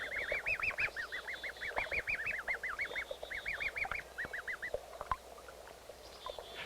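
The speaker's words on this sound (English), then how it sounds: "That is a Canada goose for sure." A Canada goose calls in a rapid series of nasal honks on a spring afternoon, the repeated cries close and fairly loud, then trailing off into a few scattered notes.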